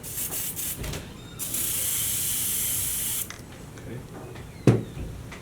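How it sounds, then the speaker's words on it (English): A steady aerosol spray of repair fibers onto velour hisses continuously for about two seconds, with quieter handling clatter before and after and a sharp knock near the end. "Okay. Spray."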